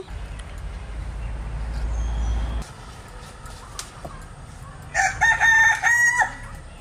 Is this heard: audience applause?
no